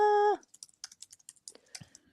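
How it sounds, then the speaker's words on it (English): Quick, irregular keystrokes on a computer keyboard, close and fairly quiet, a short series of light taps following a brief electronic tone at the start. "Sorry, I'm typing."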